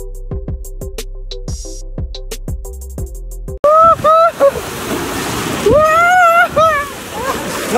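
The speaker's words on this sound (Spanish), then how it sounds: "vamos a dejar que nos peguen ahorita las olas del Golfo de México" Gulf of Mexico waves break on the beach at Mata de Uva, Veracruz: rhythmic music comes first, then a loud, churning surf rush with excited voices shouting over it.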